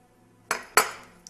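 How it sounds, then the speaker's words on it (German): Two crisp clinks of new dishes or glassware knocking together sound close and distinct half a second apart, followed by a faint tick, in an otherwise quiet room. "Das neues Geschirr."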